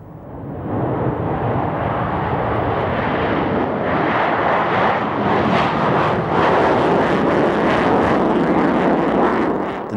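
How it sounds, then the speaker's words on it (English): Rockwell B-1B Lancer bomber flying at an air show at Mildenhall, a dense, loud jet roar rising quickly and holding steady with crackling rumble throughout. "The Rockwell International B-1 Lancer made its European flying debut at"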